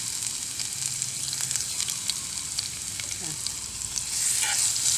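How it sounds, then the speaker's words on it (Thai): Lots of garlic sizzles steadily in a pan over high heat, a dense crackling fry that swells louder toward the end, with light stirring. "ตอนนี้กระทะร้อนแล้วนะคะเพื่อนๆคุูตั้งกระทะไว้นานแล้วกระทะร้อนเอากระเทียมลงเลยค่ะ"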